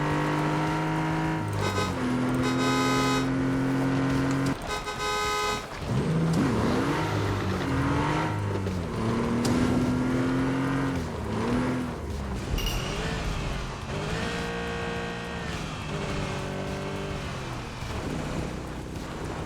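Engine of a Porsche in a racing video game, loud revving with rising and falling pitch sweeps across the whole stretch, with gear-shift drops and a busy, layered mix of game sound throughout.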